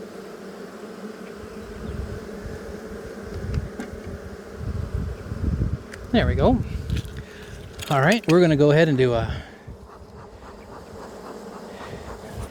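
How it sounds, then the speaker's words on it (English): Honey bees buzz around an opened hive during a June inspection with smoke, a close, wavering drone that swells in louder bursts as bees scatter, while someone talks over it. "You guys see the bees just scatter when they get hit with the smoke?"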